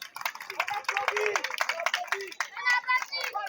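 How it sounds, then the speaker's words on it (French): Audience clapping for the mayor at a community gathering after a football final, scattered lively applause mixed with voices and shouting, including children, throughout. "On applaudit très fort, monsieur le maire, s'il vous plaît."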